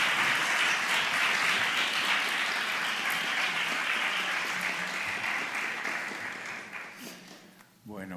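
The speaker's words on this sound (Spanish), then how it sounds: "os pido un aplauso muy fuerte" An audience at a Spanish lecture applauding warmly, dense sustained clapping that gradually thins and fades toward the end.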